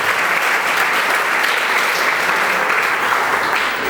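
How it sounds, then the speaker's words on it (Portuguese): Dense, loud applause from a church congregation fills the whole stretch, a steady roar of many hands clapping together without any break. "Então dá um forte aplauso a ele."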